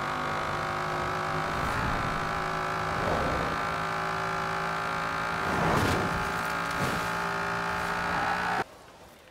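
Dodge Dart in Forza Horizon 4, tuned past 1,100 horsepower, roars steadily under hard acceleration, its loud engine note rising and surging through several gear shifts before cutting off abruptly near the end.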